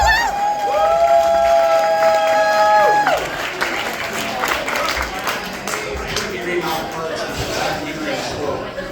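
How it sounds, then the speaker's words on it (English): Wedding guests applauding and cheering at a reception as a speaker steps up; a crowd of voices and a sustained tone ring out first, followed by sustained clapping with chatter underneath. "Applause for Mike."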